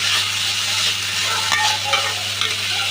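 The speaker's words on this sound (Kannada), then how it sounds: "ಚಿಕ್ಕದ ಕೊತ್ತಂಬರಿ ಸೊಪ್ಪನ್ನ ಹಾಕ್ಕೊಳ್ಳಿ ಪುನಃ ಬಾಡಿಸಿ" Chopped coriander leaves are sautéed in a pan for an easy breakfast dish. A loud, steady sizzle carries a few scraping stirs close by.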